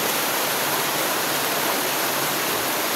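Strong floodwater current rushes past close by as a loud, unbroken roar of churning water that stays steady throughout.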